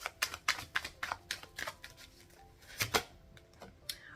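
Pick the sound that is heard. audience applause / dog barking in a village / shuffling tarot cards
shuffling tarot cards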